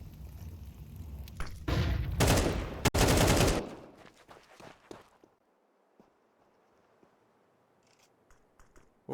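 Gunfire crackles in a Counter-Strike match on the Anubis map, with loud bursts of rapid shots up front, then scattered clicks and footsteps fading into quiet.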